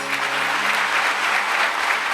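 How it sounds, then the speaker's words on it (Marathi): An audience claps for the singer, flute, harmonium and tabla players at a Mahashivratri festival gathering, a dense, loud, steady applause from a large crowd filling the whole moment. "त्यांच्यासाठी टाळी वाजवा"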